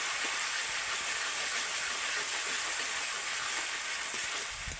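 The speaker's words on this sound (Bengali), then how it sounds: "আর এর সাথে আমি দিয়ে দেবো এখন হলুদ গুঁড়ো মশলাটাকে আমি সুন্দর করে কষিয়ে নেব" Turmeric and spice masala frying in a pan, a dense, continuous hissing sizzle at a constant level with faint stirring underneath.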